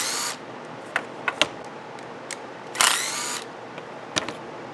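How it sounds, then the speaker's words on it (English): Small bolts coming off the carburetor of a newer Troy-Bilt lawn mower: a short tool whir followed by scattered light metallic clicks and taps, with one brighter scraping burst midway, close and fairly quiet. "in order to do that, you just take these two bolts off."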